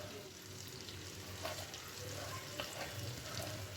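Spiced tandoori-style pomfret cooks in a pan over a low gas flame, making a faint, continuous, gentle sizzle throughout with no talk.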